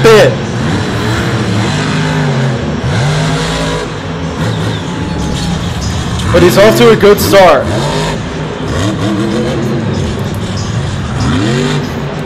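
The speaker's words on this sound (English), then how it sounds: "it's just the engine's popping just a little bit" Monster truck engine at a Monster Jam stadium show, revving loud and roaring with sporadic pops and crackles, steady throughout and running under continuous excited commentary.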